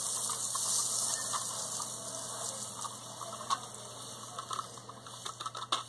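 Homemade colored sand being poured into a funnel for a DIY glass bottle project, making a steady grainy hiss with light patters and small clicks toward the end, close and fairly quiet.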